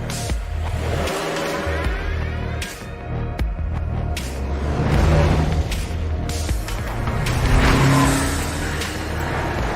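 A Tough Roader NRG car drives with a steady engine hum and throbbing, building and easing in loudness along with some revving; a dense mix layered with other sounds continues throughout.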